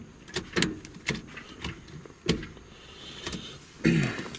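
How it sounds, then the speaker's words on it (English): Gear shifts through a Pro 5.0 short-throw shifter with a short stick in an LS1 Trans Am, heard as a series of sharp clicks and clunks spaced irregularly, close and moderately quiet, no talking. "now I can shift all my gears"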